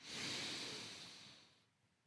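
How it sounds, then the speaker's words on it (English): A single slow, soft exhale through the nose during a gentle beginner yoga breathing practice, close and quiet, fading out over about two seconds. "we want to practice breathing in and out of your nose"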